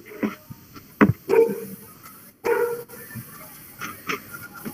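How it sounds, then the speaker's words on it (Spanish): A small dog barks in the background of an online class call, several short yips and barks in irregular bursts, fairly close and slightly muffled. "Perrito está ladrando"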